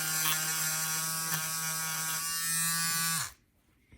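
A Peggy's Stitch Eraser electric trimmer buzzes steadily as it cuts through embroidery and bobbin stitches, a close, constant motor drone that stops abruptly near the end.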